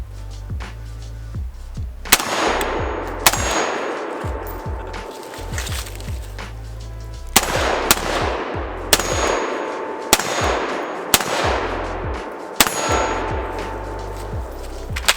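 Gunshots from an IWI Galil ACE 5.56 pistol fired outdoors: about eight sharp, loud cracks at irregular intervals, each ringing out into a long decaying echo, with no voices.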